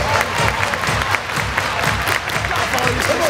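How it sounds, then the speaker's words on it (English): A crowd at a San Diego Padres versus San Francisco Giants baseball game claps hands together in a dense, continuous wash of applause that fills the stadium, with voices mixed in the background. "Everybody clap your hands!"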